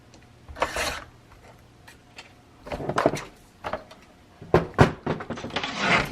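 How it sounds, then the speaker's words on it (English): Paper for a junk journal insert being trimmed all the way around with a cutting tool, giving several close bursts of scraping, rasping cuts separated by quiet pauses, with no talking. "So I'm just going to trim out all the way around."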